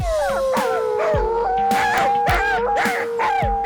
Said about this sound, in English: That was a good howl.